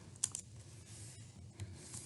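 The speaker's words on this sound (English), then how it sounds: "I'm now going to type it in" Keys on a computer keyboard clatter in a short burst of typing as an equation goes into Desmos, a few quick clicks near the start and one more later, fairly quiet against room noise, with no one speaking.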